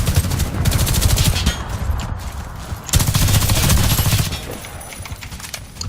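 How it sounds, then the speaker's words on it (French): Rapid, dense gunfire in the Warface shooter game, including shotgun blasts, crackles continuously at close range, with a brief dip before a renewed loud burst of shots. "Le mec qui arrive, il tire je sais pas combien de balles de fusil à pompe."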